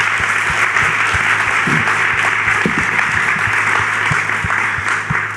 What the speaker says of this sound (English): please join me in giving a round of applause to everyone for their engagement